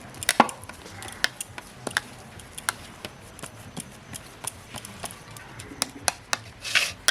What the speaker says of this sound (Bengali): এখন হাত দিয়ে একটু ডলে নেব ভালোভাবে